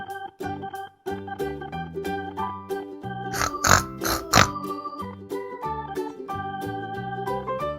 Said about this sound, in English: It's a pig.